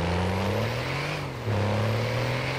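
A heavy semi truck engine in the video game GTA drones loudly with steady tonal harmonics, dipping briefly then revving back up to a strong sustained roar.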